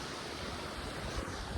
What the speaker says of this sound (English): Look at it with the cool little waterfall.